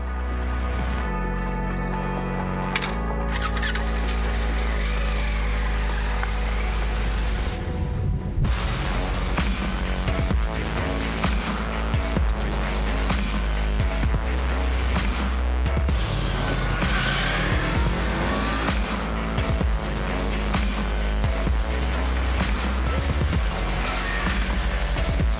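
A loud engine drones steadily with wind rush, changing pitch as gears shift, as a Voge Trofeo 350AC motorcycle cruises along a road.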